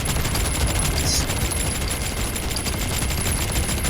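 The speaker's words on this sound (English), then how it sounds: "Just keep shooting at it." Dense, continuous rapid gunfire from shooting in the video game Tall Tales 3 Extinction, loud and sustained without a break.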